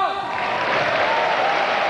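Tennis crowd in an indoor hall at a 1995 ATP Tour match between Sampras and Becker, a broad roar of applause and cheering swelling and holding loud, with a voice briefly audible at the start.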